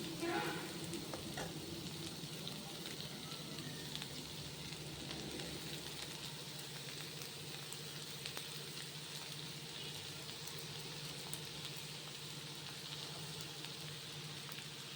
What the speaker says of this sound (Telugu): ఇలా 2 మినిట్స్ ఫ్రై చేసుకుంటే సరిపోతుంది.